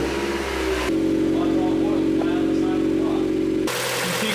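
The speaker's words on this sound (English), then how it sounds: "Start her up." A Mazda Miata engine starts and runs at a steady, rumbling idle, with bursts of louder broadband noise at the start and end.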